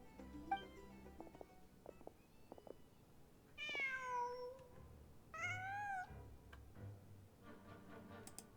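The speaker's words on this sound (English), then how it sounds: "Just a cat." A cat meows twice in Genshin Impact, with clear, drawn-out cries rising over a faint ticking clock and a low ambient hum, preceded by a few soft clicks in an otherwise quiet room.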